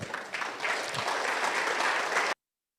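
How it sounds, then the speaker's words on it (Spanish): An audience claps loudly for a folk group at a church Bible seminar, a dense, even burst of applause building quickly and ending abruptly after about two seconds. "Vamos a recibir con fuertes aplausos"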